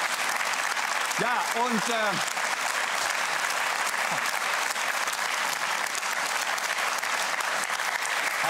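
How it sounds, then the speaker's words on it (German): A studio audience on a German talk show applauds, dense continuous clapping throughout, with a voice briefly speaking over it near the start. "Jetzt habt ihr hier noch geklatscht."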